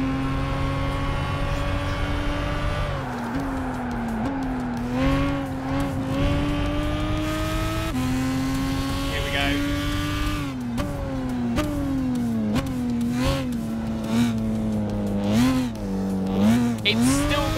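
A race car in Gran Turismo 5 revs hard through gear changes, its engine note rising and dipping with occasional tire squeal, steady and close throughout.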